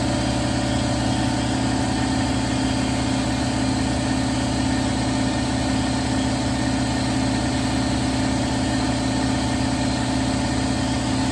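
An air compressor runs continuously in a workshop, a loud, steady mechanical hum with a constant low drone and no pauses or voices.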